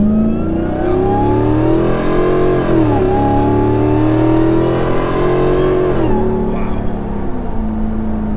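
Hellcat-swapped Jeep Gladiator with a supercharged V8 of 750+ horsepower accelerating hard in rear-wheel-drive mode, a loud continuous engine roar rising in pitch with a brief dip and shift around three and six seconds, heard from close by.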